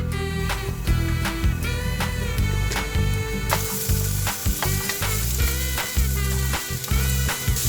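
Food fries in avocado oil in a pan, a steady sizzle with sharp crackles and clicks over the whole stretch, with a tonal layer running underneath.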